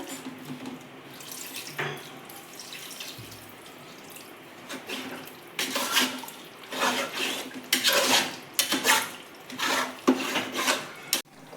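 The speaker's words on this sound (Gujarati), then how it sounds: "તો તમે જુઓ, હું થોડું પાણી નાખું છું." Water poured into a pot of undhiyu, a Gujarati mixed-vegetable dish, heard as running splashes and clinks of the pot and utensils, close, growing louder and choppier toward the end, no speech.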